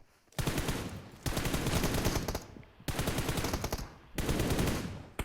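Automatic gunfire in the battle royale game PUBG rings out in four long, loud bursts separated by brief gaps, with no talking.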